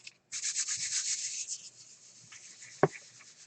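A hand rubs over the back of a paint print in a mixed-media artwork, giving a loud scratchy swishing for over a second before it fades to soft strokes and ends in one sharp tap.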